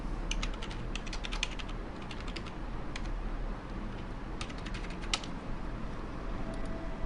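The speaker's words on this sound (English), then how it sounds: "you type the order link" Quick, light keystrokes on a computer keyboard come in short irregular bursts with brief pauses, close and fairly quiet, with no talking.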